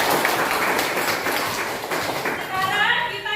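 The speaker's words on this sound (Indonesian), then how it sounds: "Tepuk tangan untuk semuanya." A classroom of students claps together, a brief burst of quick hand claps that fades after a few seconds as talking continues over it.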